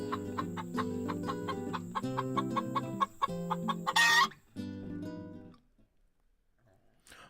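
Chickens cluck against a background of tonal music, repeated short calls over several seconds, ending in a louder squawk-like burst before fading to near silence.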